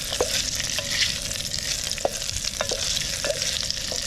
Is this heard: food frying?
yes